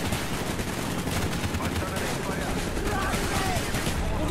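Rapid pistol fire in Call of Duty: Black Ops (2010), a dense run of close, sharp shots layered over busy game noise, with a player talking over the shooting.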